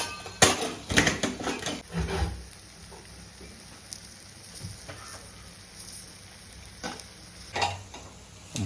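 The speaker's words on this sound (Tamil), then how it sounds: "இப்போது அதை கொஞ்சம் கொஞ்சமாக கிளறி பொடியாக ஆக்கி முட்டை பொரியல் ஆக்கணும்." Egg fries in a pan on a low flame, soft sizzling broken by several close bursts of stirring and scraping, with quieter stretches between the strokes.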